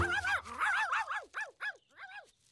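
Cartoon puppy letting out a quick run of yips and whimpering barks, several short rising-and-falling cries close and clear, growing sparser toward the end.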